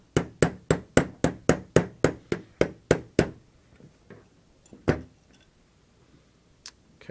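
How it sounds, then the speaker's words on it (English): A Chiappa 1911-22 pistol part held in a bench vise is tapped with a hammer: about twelve sharp, evenly spaced metallic knocks in a quick run, followed by quieter scattered taps and handling sounds. "Let's give it a few taps."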